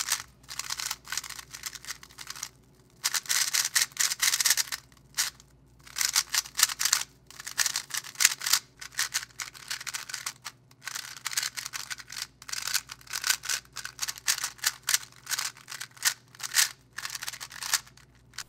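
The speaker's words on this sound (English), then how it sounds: "It's mellowing out the sound of the cube and it's making the plastic feel less harsh." Cubicle Labs Mystic speedcube after lubing, turned rapidly with bursts of crisp plastic clicking and rattling in quick uneven runs, close but fairly quiet, with short pauses between bursts.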